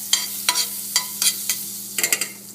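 Butter cooking down in a pan, with a spoon scraping and stirring about every half second over a soft sizzle and a steady low hum.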